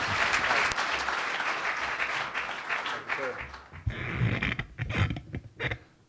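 An audience at a Charleston meeting breaks into loud, sustained applause for a congressman, the clapping filling the room for several seconds before thinning out as a voice begins speaking.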